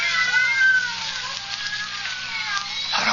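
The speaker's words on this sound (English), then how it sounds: "knowing her deadly fear of cats, has locked her in here with half a dozen of them." About half a dozen cats locked in a room in a Sherlock Holmes radio drama set at the opera yowl and meow in a continuous, loud, wavering chorus that lasts throughout.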